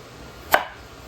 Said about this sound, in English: using your Chinese cleaver is you can then make wide slices